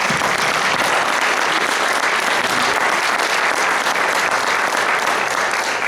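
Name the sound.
audience applause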